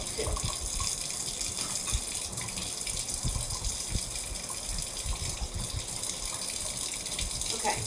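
A kitchen tap runs steadily as a sponge and scrubbing tools are rinsed, a continuous gushing splash with faint clatters, fairly quiet and close.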